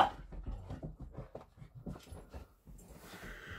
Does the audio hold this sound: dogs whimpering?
yes